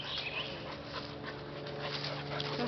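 Two dogs play together, producing continuous panting, soft whimpers and little yips at close range against a steady background hum, with no speech.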